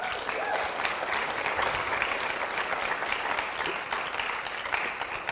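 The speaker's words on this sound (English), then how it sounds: "Amazing group of women. Let's give them a clap." Steady applause from an audience at a women's team regional training session, a dense, continuous patter of clapping filling the room at moderate distance for the whole stretch.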